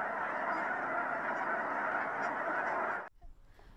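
A flock of geese honking steadily and loudly in Colorado, continuous overlapping calls that cut off abruptly near the end, leaving a brief quiet stretch.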